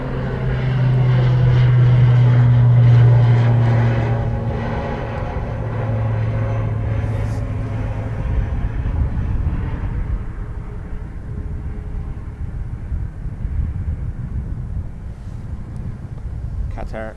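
A Qatar Airways airliner at Dublin Airport roars loudly with a steady low engine drone that slowly fades. Turbine whine and broadband rumble carry on through the clip, and a voice can be heard talking over it.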